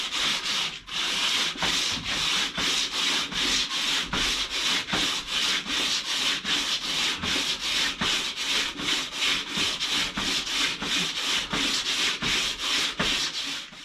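Sandpaper rubs by hand across a Lexan rear hatch window on a Jeep XJ Cherokee, in rapid regular back-and-forth strokes, close and fairly loud, each scrape ending in a short pause, with no voices.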